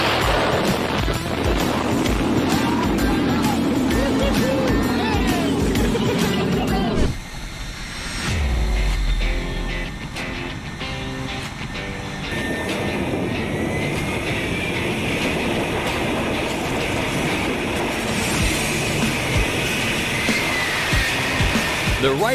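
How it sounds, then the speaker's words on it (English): Blue Angels jet aircraft take off with loud roaring and rushing engine noise, a brief break midway, then a sustained powerful roar, with some talk mixed in. "The Blue Angels have some of the swiftest takeoffs in the aviation industry."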